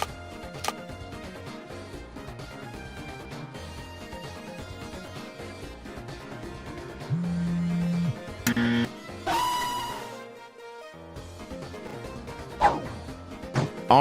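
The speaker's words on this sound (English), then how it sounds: "Lynn is here, and she is acting like a dog" Video game Five Nights at the Loud House, where a character barks like a dog: sharp bark-like hits and thwacks scattered over a dense game soundtrack, loud and close.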